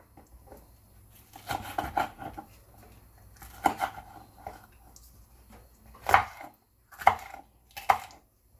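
A knife chops hot peppers and onion on a cutting board for St. Vincent hot pepper sauce, giving scattered crisp knocks in small clusters, then three sharper separate strikes near the end, close and fairly quiet.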